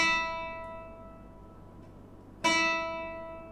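A single classical guitar string plucked with the textured side of a fingernail rings out and fades, then a second pluck rings at about two and a half seconds, each with a bright harmonic attack and a slow decay, quiet and close.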